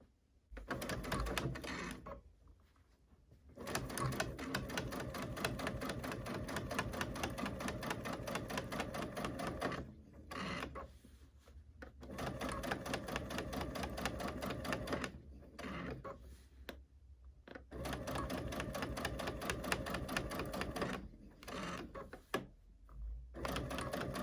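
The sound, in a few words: sewing machine stitching channel quilting rows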